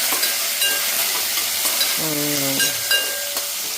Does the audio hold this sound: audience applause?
no